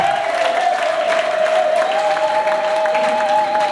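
Loud, sustained applause from a crowd at a church reception marking the 10th and 16th anniversaries of two priests' ordination, filling the whole stretch with a steady tone ringing through it.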